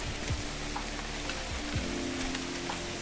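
Heavy monsoon rain pours steadily over a Konkan village in Devgad, a dense, unbroken hiss of downpour with scattered drips and low thuds, no voices.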